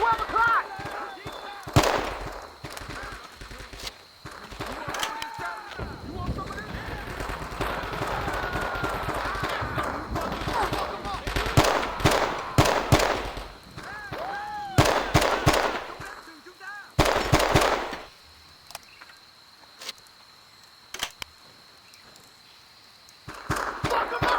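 Sharp gunfire from tree snipers and enemy rifles in the Vietnam-era video game Men of Valor, cracking in rapid bursts and scattered single shots, loud and close, with voices speaking between the volleys.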